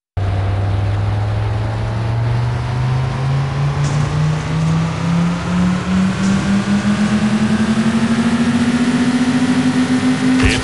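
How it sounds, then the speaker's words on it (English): A race car engine in City Racing 3D drones loudly and steadily, its pitch climbing smoothly as it accelerates over several seconds, with no talking. "Gentlemen, start your engines."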